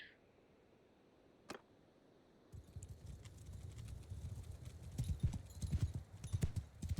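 Horse archers' hooves clop in the video game Bannerlord, a dense, rapid drumming of many galloping horses that starts abruptly and builds louder, preceded by quiet ambience and a single sharp click.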